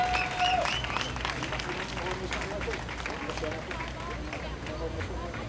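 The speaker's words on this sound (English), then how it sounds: "So let's just give him one more round of applause." Applause from an audience at the NARD NYC 2016 event fills the room as a sustained, dense wash of clapping, with crowd noise and some talk mixed in throughout.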